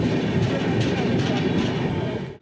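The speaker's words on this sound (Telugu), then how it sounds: "ముంబై సెంట్రల్ నుంచి వారణాసి ట్రైన్ ఇది" Steady low rumble and rattle of a passenger train running between Mumbai Central and Varanasi, heard from inside the coach at constant loudness before it cuts off abruptly at the end.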